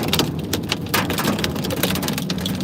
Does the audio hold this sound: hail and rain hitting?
yes